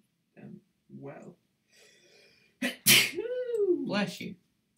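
A single loud sneeze bursts out after a few short murmured voice sounds, close and sharp, trailing into a brief vocal tail.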